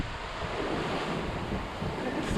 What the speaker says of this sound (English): the wind's increasing all day